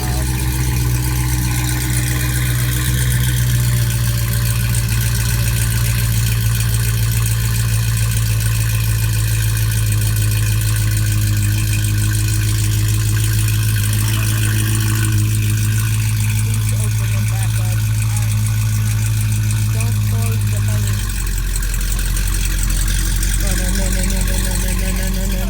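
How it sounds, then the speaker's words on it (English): A Dodge Hellcat engine idles loudly up close with a deep, steady rumble, its pitch shifting partway through, while people talk over it. "We having a rev battle here?"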